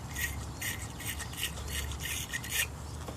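A battery terminal cleaner brush is twisted inside a car battery cable clamp, giving close, soft repeated scraping and rubbing strokes in a steady rhythm, with no talking.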